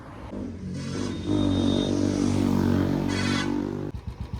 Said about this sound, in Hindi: अब तो बाइक को कर दिया कोल्ड स्टार्ट